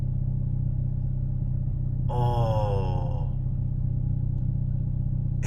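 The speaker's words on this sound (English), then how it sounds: "Listen to the rumble." Deep, steady engine rumble from a car just fitted with a SXTH Element EM3 engine mount, idling throughout while a voice briefly exclaims over it midway.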